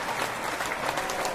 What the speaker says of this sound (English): With a lot of applause.